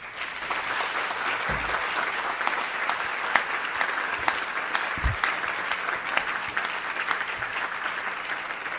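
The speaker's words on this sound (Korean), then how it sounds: "다시 한번 감사의 박수를 부탁드립니다" Sustained applause from the audience honoring the presenters at a Catholic university academic symposium, a steady, dense wash of many hands clapping at moderate distance with no talk over it.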